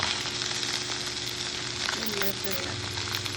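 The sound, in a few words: fish frying in oil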